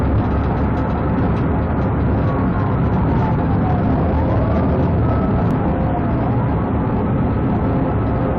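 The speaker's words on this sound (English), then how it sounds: "they activated their lights and sirens" A police car siren wails continuously during a high-speed pursuit, its faint sweeping tone riding over loud, steady road and engine rumble from inside the vehicle, with no voices.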